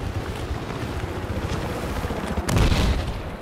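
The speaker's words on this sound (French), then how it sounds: "Je crains qu'il y a eu une explosion." A deep boom erupts in the video game Battlefield 4 on the Dragon Valley map, rising out of rumbling background battle noise near the end of the clip.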